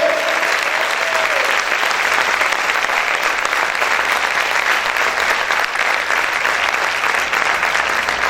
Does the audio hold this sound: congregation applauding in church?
yes